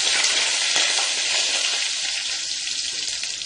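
Curry leaves, mustard seeds, cumin seeds and bay leaves fry in hot oil as a tempering for Punjabi dal fry. The result is a loud, continuous sizzle with small pops and crackles throughout.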